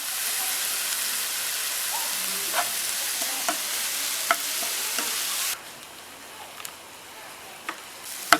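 Chopped tomato and curry leaves sauté in a pan with a steady hissing sizzle and occasional light taps of a spatula; the sizzle drops to a quieter simmer partway through, no talk.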